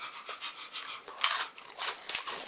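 A dog crunches and chews a milk biscuit up close, giving quiet, irregular crisp bites and smacking sounds with no one talking.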